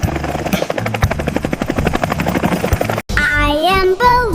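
A cartoon helicopter from a children's 3D vehicle show whirs with a loud, steady rotor chop, rapid regular blade beats filling the first three seconds, then giving way to a brief high sung or synthesized melody.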